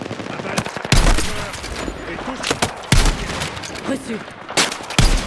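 Gunfire in the Battlefield 6 video game: repeated loud shots and bursts of automatic fire, some with heavy booming thumps, running through the whole stretch while players talk over radio-style chatter.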